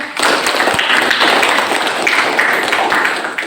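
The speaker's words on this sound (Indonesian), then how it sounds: "Tepuk tangan untuk kita semua." A classroom of students claps together in a loud, dense burst of hand claps that holds steady for a few seconds and then tapers off near the end, with no talking.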